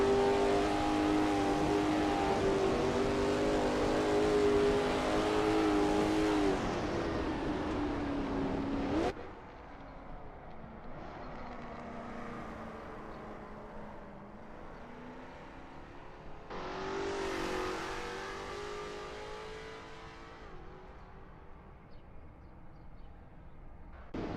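Lola T70 MkII Spyder race car engine in a racing video game at Riverside, roaring loud and steady at high revs, dropping sharply as the driver lifts, then climbing again with a rising rev sweep before easing back.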